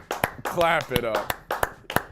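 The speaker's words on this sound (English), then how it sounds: "Clap it up." A handful of sharp claps spaced irregularly over about two seconds, close and dry, with a short stretch of speech in between.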